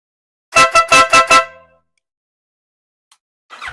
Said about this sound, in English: I did say I'd sample the horn for you